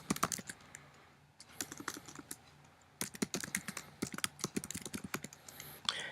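Folder name typed on a computer keyboard, a quiet close run of rapid keystroke clicks in uneven bursts with brief pauses between words.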